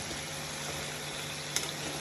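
Ghughuti dough shapes, a festival sweet from Uttarakhand, fry gently in a pan over low heat, giving a faint, even bubbling hiss with a single tiny pop.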